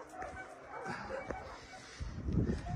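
A dog at an animal shelter gives a few short yips and barks amid the noise of a person talking nearby, followed by a louder burst of rustling toward the end.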